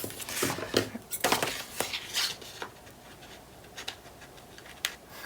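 Close, uneven snips and rough scraping cuts from dull scissors, several in quick succession at first, then sparser and fainter.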